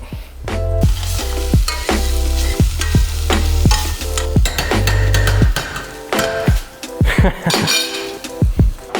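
Ginger going into a pan of browned onions for a lentil soup, with loud steady sizzling frying and repeated sharp clinks and scrapes of a spoon stirring against the pan, close and without talk.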